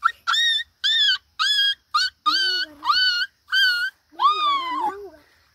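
A young child imitates animals, voicing a run of short, high, whiny puppy-like yips and whimpers of a small dog, then longer cat-like meows toward the end.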